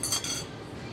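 Metal forks and cutlery clink briefly in a housewares shop, a quick bright jingle of a few light touches close by, fading into quiet room tone.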